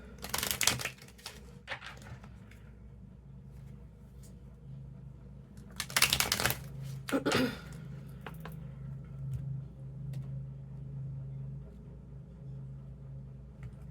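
An Angel Answers Oracle card deck is shuffled in a few short, crisp riffling bursts, quiet and close, separated by stretches of near-silence over a low hum.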